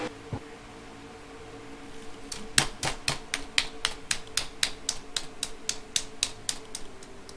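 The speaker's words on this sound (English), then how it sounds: "That clapping you hear are his fans wishing a speedy bounce back for next week." Fans clapping at Pocono race track during the Gander RV 400, a sharp, evenly spaced series of about fifteen claps, fairly close and steady.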